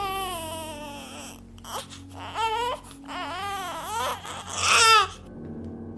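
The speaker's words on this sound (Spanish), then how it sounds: "escuchó el llanto de un bebé" A baby's cry wails in rising and falling sobs, with short whimpering breaks, as an eerie sound effect within a spoken horror tale; the crying stands alone and grows loud near the end.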